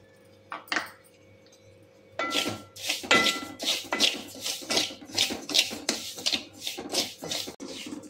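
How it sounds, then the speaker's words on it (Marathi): Barnyard millet rice is roasted in a pan, with a utensil scraping and clinking against the metal in quick rhythmic strokes after a few sparse taps at the start. "आपण वरीचे तांदूळ पहिल्या भाजून घेऊया"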